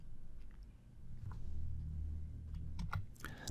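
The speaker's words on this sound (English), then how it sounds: "Type headline in there." Typing on a computer keyboard while entering a headline in a website builder, scattered soft key clicks over a low room rumble, faint and close.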